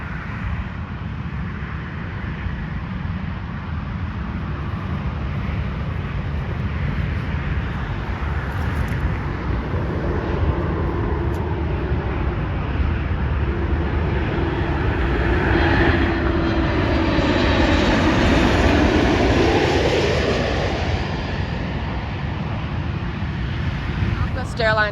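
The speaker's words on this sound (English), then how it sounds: "This is a Southwest Airlines Boeing 737 MAX 8 coming from Hayden," A Southwest Airlines Boeing 737 MAX 8 arriving at Dallas Love Field gives a loud, sustained jet roar that swells and peaks near the end with a sweeping whine as it passes close by, over some wind noise.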